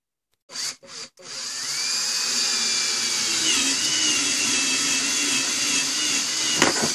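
A power drill stutters in short bursts, then runs steadily with a high whine, close and loud.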